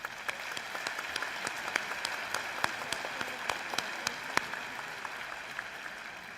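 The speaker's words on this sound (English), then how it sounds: "Let's give them all a round of applause." An audience applauds at a college commencement ceremony, a steady wash of clapping from many hands that carries on evenly throughout, heard from some distance and fairly faint.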